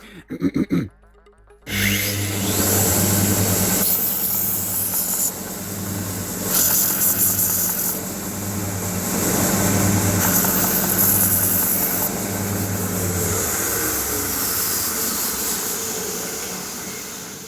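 A voice imitates an industrial belt sander: after a short opening blip comes a loud, steady grinding drone with a low hum and hiss, running unbroken for about sixteen seconds.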